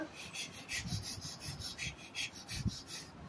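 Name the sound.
voice imitating the sound of brushing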